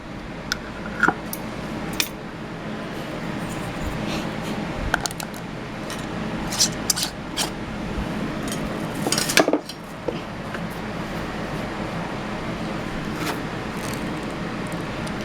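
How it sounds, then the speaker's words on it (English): Canning jar lid being fished out of hot scalding water with metal tongs, giving scattered sharp metallic clinks and taps over a low kitchen hum, with one louder clatter partway through. "lifting the lid out with my tongs"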